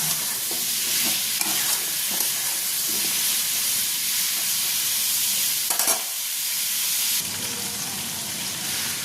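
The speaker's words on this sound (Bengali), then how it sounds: "দিয়ে আমি ফ্লেমটাকে হাই করে ভালো করে কিন্তু ভেজে নেবো এগুলো" Carrots and onions frying in a pan over a high flame, a steady loud sizzle and hiss running throughout, with a brief stirring clatter partway and a slight drop in intensity near the end.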